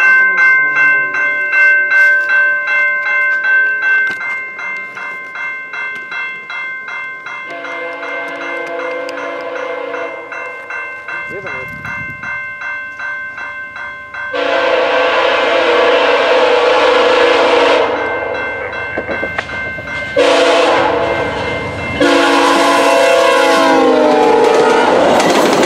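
VIA Rail train 87 arriving at a station near Stratford, its loud horn sounding in several long blasts over rumbling wheels and a ringing bell, close and dominant throughout.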